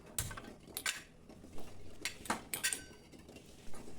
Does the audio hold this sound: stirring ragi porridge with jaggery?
yes